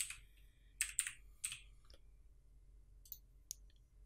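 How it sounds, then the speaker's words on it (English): A few sparse keystrokes on a computer keyboard, close and crisp, in small clusters separated by short pauses in a quiet room. "I'm going to type in my text that I want to use"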